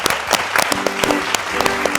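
An audience on a TV show applauds to welcome a band, with loud, dense clapping throughout and a few faint voices mixed in.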